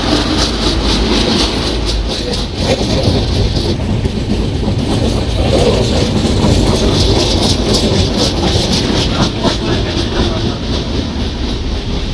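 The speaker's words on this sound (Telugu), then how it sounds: "ట్రైన్ కూడా స్లో అయింది" A passenger train runs steadily on its rails, a loud continuous rumble with rhythmic clickety-clack from the wagons, heard from inside the carriage throughout.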